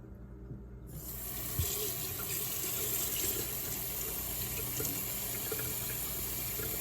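Dirty water rushes into a sink while a vacuum cleaner is being cleaned out. The steady, close splashing flow starts abruptly after about a second of quiet and keeps running evenly to the end.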